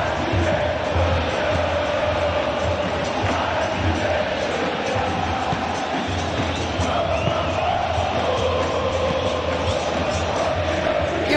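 A stadium crowd in the PES 21 football video game, during a simulated Grêmio vs Sampaio Corrêia Brasileirão 2022 match, roars and murmurs in a dense, constant wash of noise.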